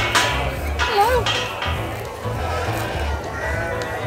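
Lamb bleating at an agricultural show, the Royal Cheshire Show, a single short wavering bleat near the start amid crowd murmur and a low engine or generator hum, with people talking nearby.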